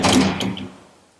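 An aluminum sliding pocket door in a modern home slides along its track, a short close rolling whoosh with a light clack that fades over about a second.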